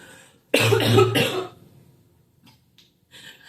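A burst of harsh coughing mixed with laughter, loud and close, fading into quiet breathing and faint rustles.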